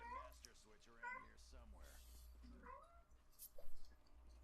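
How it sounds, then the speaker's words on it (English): A house cat meows several times in close succession, its rising and falling cries mixed with someone talking nearby and a steady low background hum. "Please excuse the cat."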